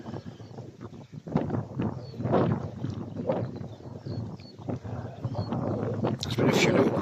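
Headwind gusting straight into a microphone outdoors at a local nature patch, a continuous rumbling buffet that swells and surges in loud waves throughout, with a brief harsher burst near the end.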